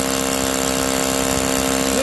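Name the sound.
drill boring through solid concrete block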